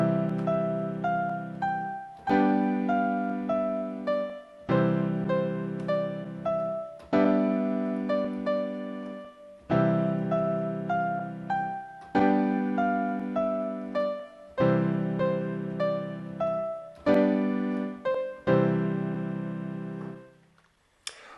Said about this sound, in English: I'm going to play the Ode to Joy